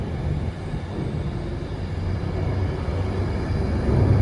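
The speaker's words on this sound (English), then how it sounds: "We have a train" Train moving through Birmingham International station on the West Coast Main Line, a continuous low rumble that grows slightly louder toward the end, with no voices.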